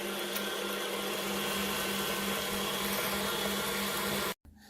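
An electric mixer whirs steadily through keto brownie batter, a loud, constant motorized hum with a buzzing tone that cuts off abruptly near the end, with no talking.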